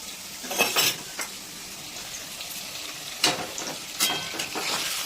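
Paneer pieces fry in a pan with a soft, steady sizzle, broken by a few sharp clinks and stirring scrapes of utensils against the pan.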